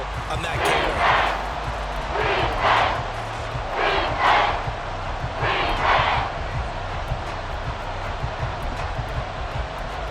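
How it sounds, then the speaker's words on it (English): Video game stadium crowd at Arrowhead in Madden NFL 24, a loud sustained roar that swells in repeated waves over a low rumbling bed, with no commentary over it. "The Arrowhead crowd in full roar."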